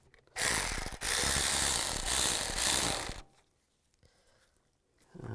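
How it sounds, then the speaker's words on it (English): A ratchet wrench clicks rapidly and steadily for about three seconds, tightening radiator hose clamps on a 2002-2009 Chevy Trailblazer, loud and close, then stops, leaving near silence broken by a faint knock. "And tighten down the clamps."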